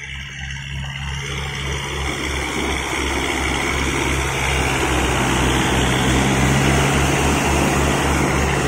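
Kubota MU4501 tractor engine driving a thresher, a steady low diesel drone with a pulsing throb and broadband machine rumble that holds loud and constant throughout, with no talk.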